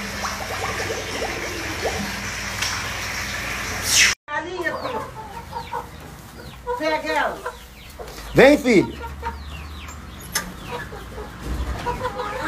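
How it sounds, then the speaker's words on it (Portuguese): Chickens on a farm in Minas Gerais cluck and squawk nearby in scattered bursts, with a few louder calls standing out, while a person talks between the sounds. "As galinhas ficam andando atrás dele."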